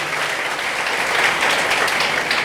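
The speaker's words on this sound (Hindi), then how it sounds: "तालियां बजा दो अपने लिए, तालियां बजा दो भैया आईआईटी वाले" Applause from an audience of students at a coaching-class event, a dense continuous wash of many hands clapping at a steady level throughout.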